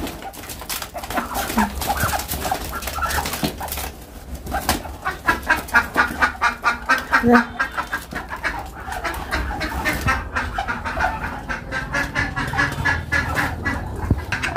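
A noisy flock of chickens and ducks clucks and squawks continuously, with rapid pulsing calls and a busy farmyard clamor close by.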